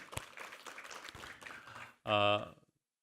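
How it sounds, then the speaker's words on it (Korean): A church congregation at a Sunday service applauds in a sustained patter of many hands for about two seconds, then a loud sung or sustained tone cuts in and fades. "우리 하나님께 감사와 영광의 박수 올려드리겠습니다."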